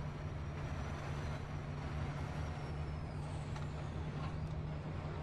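A big Kenworth truck in Farming Simulator 15 on the Massie, Ontario map, its engine droning as a steady low hum beside a store yard, with a faint hiss of air above it.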